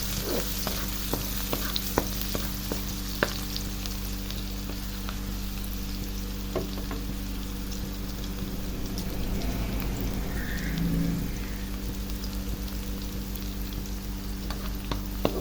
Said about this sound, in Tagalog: ilagay na rin natin ang ating garlic na semi-mince. Ayan. Haluin lang po natin.